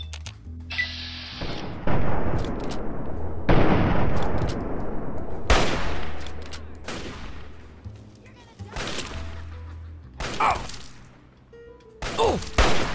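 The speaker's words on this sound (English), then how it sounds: "Reckon I ought to pop this girl's head off with this here hunting rifle?" Rifle shots from a hunting rifle in Fallout 3, a series of sharp, loud cracks at irregular intervals with ringing decay, fired over game background sound and occasional speech.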